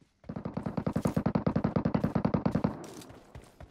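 Gunfire in PUBG Metro Royale: a loud, steady burst of about twenty rapid shots at an even rhythm, followed by a couple of scattered trailing shots, with no talking.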